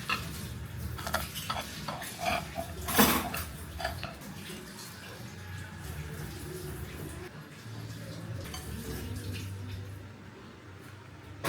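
Food is cut up in a cooking pan in a home kitchen, with scraping and clinking of utensil against metal, a sharp clatter near the start, then softer intermittent sounds with faint water-like background.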